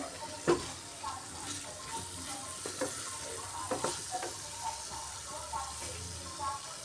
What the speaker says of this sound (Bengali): মশলার সাথে আলুটা ভালো করে মিক্সড করে নিচ্ছি